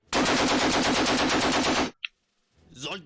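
Gunfire in the Conflict of Heroes board game's digital version: a loud, sustained burst of rapid machine-gun fire for nearly two seconds, a single sharp click, then a rising rumble.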